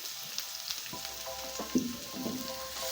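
White onions frying in oil in a pan, a soft steady sizzle with a few faint stirring knocks, quiet and close with no talk.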